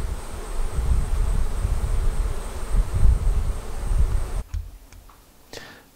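Honey bees buzz loudly around a Flow Hive, a thick close droning swarm that fills most of the moment before dropping away abruptly near the end, leaving only scattered faint buzzes.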